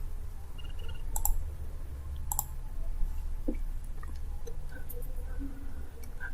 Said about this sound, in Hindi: याको राइट क्लिक करी कॉपी किंबा कट कर नियंतु